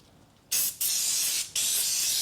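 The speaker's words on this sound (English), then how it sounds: "Give that a little blast off with some brake and clutch cleaner while I've got it here." Close, loud bursts of aerosol brake and clutch cleaner hit the front brake disc of a 2013 Mini Cooper D 1.6 diesel in three quick sprays with short breaks between them.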